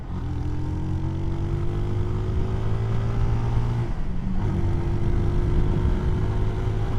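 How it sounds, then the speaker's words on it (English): A CSC SG250 cafe racer motorcycle climbs a hill at full throttle. Its single engine holds a loud, steady drone that rises gradually in pitch, with a short dip near the middle. "Alright, full throttle, going up a hill now."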